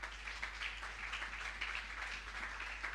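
A church congregation applauds the Lord during a Sunday worship service, a steady wash of clapping that holds evenly for the whole stretch at a moderate level with no voices rising above it.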